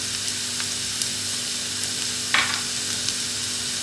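Onion and pepper fry in a hot pan with a constant even sizzle, and one short clatter of a utensil partway through; no voices.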